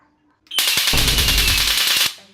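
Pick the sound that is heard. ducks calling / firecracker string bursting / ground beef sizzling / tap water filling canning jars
firecracker string bursting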